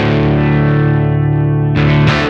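Sustained distorted guitar chord washed in a lush hall reverb preset on a Meris Mercury X pedal, ringing steadily with a long smooth tail before two bright new strums cut in near the end.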